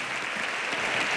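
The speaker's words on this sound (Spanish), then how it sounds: "este pedazo de aplauso que empieza a sonar es para ti, Federico" A gala audience in a theater bursts into dense, steady applause, a continuous wash of many hands clapping at once.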